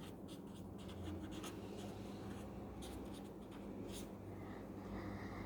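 Steady scratching of a pen or marker writing a word on a surface, close and continuous with faint stroke accents, no speech.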